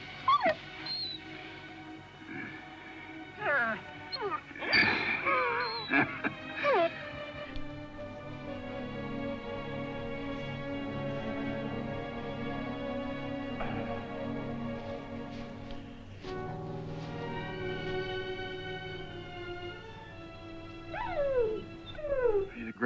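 A dog whimpers and yips in high, wavering cries that stretch into long drawn-out howls, fairly close, with quieter pauses between outbursts.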